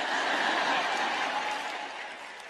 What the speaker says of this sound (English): I didn't think I'd get much of a clap on that.